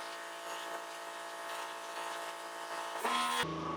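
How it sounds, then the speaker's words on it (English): A Torx screwdriver buzzes steadily, driving bolts of an air intake kit on a 2019 Ford 6.7 diesel truck, a continuous close whir that shifts pitch near the end. "The screwdriver with the star. We're going to use that."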